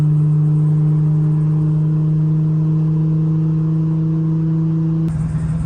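Steady droning engine hum from inside a Nissan Z car as it drives, a loud constant low tone holding even, with a sudden shift and rougher texture near the end.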